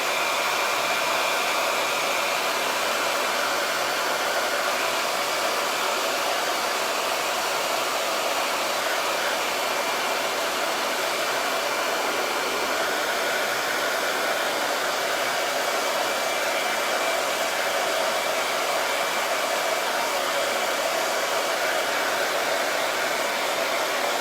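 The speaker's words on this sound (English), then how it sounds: "I'm gonna hit it with a hairdryer really quick for the sake of time" A handheld hair dryer blows steadily and close for the whole stretch while drying milk paint on a craft project. It makes a loud, even whoosh with no pauses and no talk.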